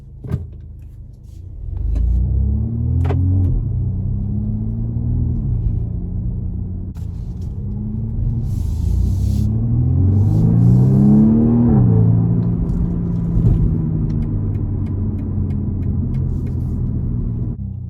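A 2020 BMW M235i Gran Coupe in sport mode drives at a steady speed, its engine a continuous low rumble from inside the cabin, with rising and falling engine tones as it shifts through gears; no talking.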